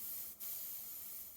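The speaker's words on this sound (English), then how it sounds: "And then we take the airbrush" An airbrush sprays paint onto a 1/2000 scale USS Missouri model, making a steady, close hiss. The hiss cuts out briefly for a moment, then resumes and holds to the end, alone with no talk.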